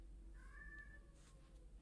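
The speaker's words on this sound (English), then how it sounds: "I'm not sure if you could hear that, but that was Astrid, one of my kitties" A pet domestic cat gives a single drawn-out meow, fairly faint and somewhat distant, heard alone over a low background hum with no talking.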